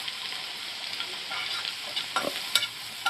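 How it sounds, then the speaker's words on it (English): Fresh continental parsley frying in a pan for an olive omelette, a soft steady sizzle with light scraping as it is stirred around, close and quiet. "We'll just quickly fry that. Give it a quick whiz around there."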